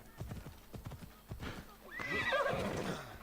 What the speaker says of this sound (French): on va laisser le cheval ici.